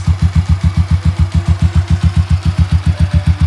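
Motorcycle engine being given gas by a first-time rider, a loud, close, rapid regular chugging pulse that holds steady throughout.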